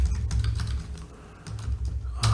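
Typing on a computer keyboard directly beneath a large overhead microphone: rapid, uneven key clicks up close, steady throughout over a low background hum.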